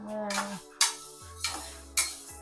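Ingredients dry-roasting in a home kitchen pan, stirred with a metal spoon that gives a few sharp clanks and scrapes against the pan at irregular intervals, close and fairly quiet, with no talking.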